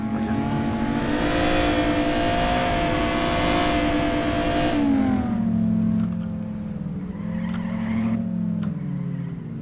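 Ferrari engine in the Arma 3 video game, a loud sustained drone that holds high and rises at first, then drops lower and steadies after about five seconds, with no talk over it.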